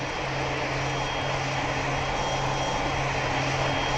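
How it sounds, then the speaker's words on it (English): Jet airliner engines run at Tokyo International airport, a loud steady roar with a constant whine, heard close and unbroken throughout. "Are the engines on? I mean, those engines are on."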